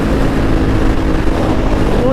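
Husqvarna SM 701 supermoto motorcycle engine roaring under acceleration at speed, a loud continuous drone mixed with heavy wind rush, with a rider's voice partly audible over it.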